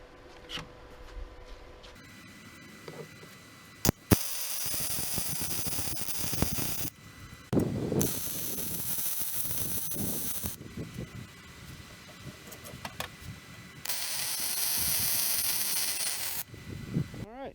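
An arc welding bead being run on an Early Bronco rebuild, steady crackling hiss in several long stretches broken by pauses, close and fairly loud.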